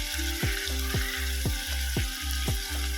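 Onions and tomato frying in a pan for a Chinese-style chicken curry, stirred with a spoon that scrapes at a steady rhythm of about two strokes per second over a continuous close sizzle.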